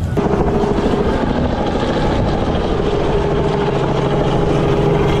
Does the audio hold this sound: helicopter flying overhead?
yes